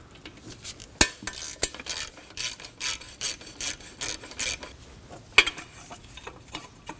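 A 12mm wrench works a bolt loose on a panel of a 2003-2006 Subaru Baja, giving close, irregular metallic rasping and ratcheting scrapes with a few sharper clicks, heard alone.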